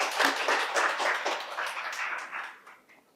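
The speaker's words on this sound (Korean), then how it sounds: "다시 한번 전창민 대표님께 큰 박수 부탁드리겠습니다" An audience at a Korean social-service investment exchange meeting claps for a company CEO after his pitch: dense, steady applause from a room of people that gradually thins and fades out.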